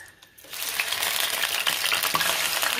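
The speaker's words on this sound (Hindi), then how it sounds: "तो ऑयल हमारा गरम हो चुका है, अब हम इसमें ऐड कर देंगे प्याज का पेस्ट।" Onion paste hits hot oil with a sudden rush of sizzling after a brief quiet start, then a steady, loud frying hiss that carries on with small crackles, no talk.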